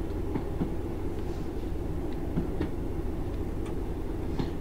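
A Class 156 diesel unit rolls into a platform in Train Sim 2021, a steady quiet rumble of running gear with faint, irregularly spaced clicks and clacks as the wheels pass over the track.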